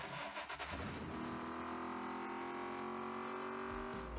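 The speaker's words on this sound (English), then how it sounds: "the engine audio on this car I thought was really cool. It has this really angry muscle car sound to it" A Ford Mustang Shelby GT in a racing video game starts up with a short rough burst, then settles into a sustained, gritty muscle-car engine drone with a steady tone and no talking.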